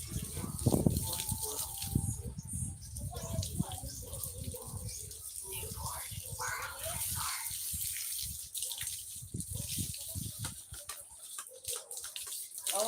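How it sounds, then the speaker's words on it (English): Water runs steadily from a hose or tap while plants are watered outdoors on a hot day, a continuous splashing hiss with uneven spattering, close by and fairly loud, with a person talking intermittently over it. "I need to water."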